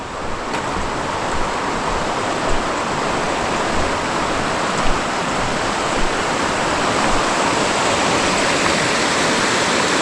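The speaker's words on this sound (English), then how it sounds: "Pretty little creek." A small creek near Bear Creek Bridge on the Pacific Crest Trail rushes with a steady, loud, unbroken wash of water that stays even throughout, with no voices.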